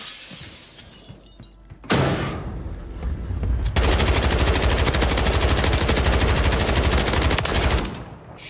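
Sustained rapid automatic gunfire from a shotgun in Warzone, loud and dense with a sharp onset, hammering continuously for about six seconds before cutting off, with shattering impacts mixed in.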